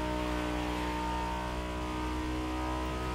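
Lamborghini Huracan V10 engine in the video game The Crew Motorfest, revving in a steady, loud, close drone with strong layered harmonics, heard alone without any voices.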